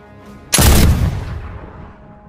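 A single sharp gunshot cracks out loud and close, then trails off in a short rumbling echo that fades within about a second and a half, with no talk.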